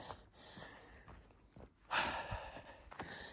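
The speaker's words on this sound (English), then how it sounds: "I'm breathing hard, but my heart rate doesn't feel too bad." Heavy, close breathing from a runner going uphill on a sunset trail run, with rhythmic huffs and one louder exhale partway through, fairly faint overall.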